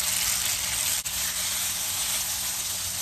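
Rice noodles fry in a little cooking oil in a pan, giving a steady close sizzle and crackle with one small break, and no talk over it.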